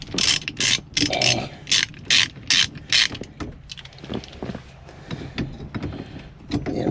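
A ratchet tightens a puller while working on an XA Falcon's steering column, giving rapid bursts of sharp metallic clicks that start close and loud, then continue more softly and sparsely.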